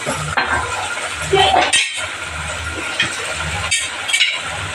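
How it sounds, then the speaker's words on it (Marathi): A spoon stirs vegetable cutlet mixture of mashed potato and sauces in a bowl, making close, steady scraping with repeated clinks of metal against the bowl and no talking. "सगळं मिक्स करून घ्यायचे"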